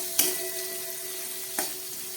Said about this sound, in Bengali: উচ্ছেটা ভাজা হোক